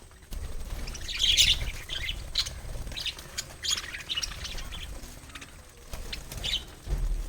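Small lovebirds chirp and squeak in scattered bursts close by, with brief rustling flutters of wings between the calls, no voices present.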